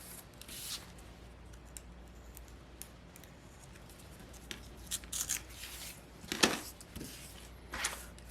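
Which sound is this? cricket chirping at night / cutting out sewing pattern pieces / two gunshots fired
cutting out sewing pattern pieces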